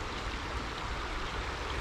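A wide river flows with a loud, continuous broadband rush of moving water, close and steady throughout with no voices.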